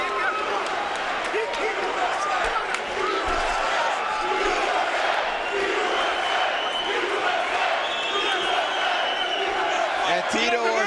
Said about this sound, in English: I haven't seen a crowd reaction like this in a long, long time.